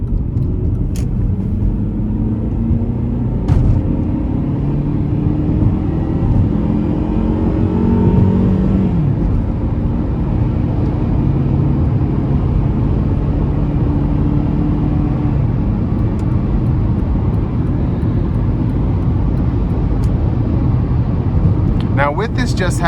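A 2004 Honda CR-V with a 2.4-litre four-cylinder and four-speed automatic revs hard in first gear toward 6,500 RPM, a steady close engine drone rising in pitch, then settling into a constant rumble with road noise.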